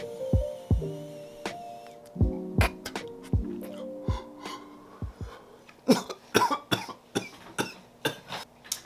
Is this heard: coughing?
yes